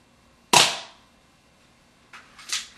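Airsoft P22 pistol firing: a sharp, close pop that quickly fades, followed a moment later by a softer double snap.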